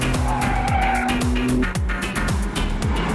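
A 630 hp Maserati sports car tears around the Zolder circuit, its engine rising and dropping through repeated rapid gear changes with a loud, close, rasping roar and hints of tire squeal.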